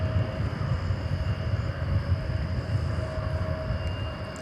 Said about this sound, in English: So Flight 2833 and Airbus A321 coming in from Los Angeles. Going around there.